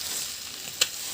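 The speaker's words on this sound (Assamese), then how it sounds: "লোকেল মাংস ফ্ৰাই হৈ গ'ল কেৰাহীত লাগি আছে" Homegrown local chicken meat frying in a wok, a steady close sizzle with a brief sharp crackle near the end.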